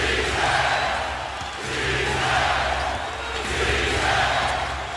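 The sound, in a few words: basketball arena crowd rising and cheering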